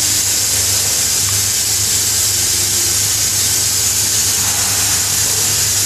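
Chemtools contact cleaner aerosol sprays steadily across 3 meters, a loud, continuous hiss that holds level from start to finish without a break.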